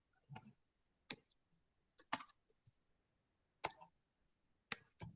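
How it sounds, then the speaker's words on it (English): Keys on a computer keyboard clicking in short scattered bursts, a few quick strokes at a time with pauses between, fairly faint and close in a quiet room. "please, I'm typing so that you get it"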